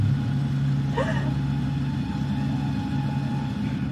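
A car engine idles with a steady low hum and rumble throughout, while a voice talks over it.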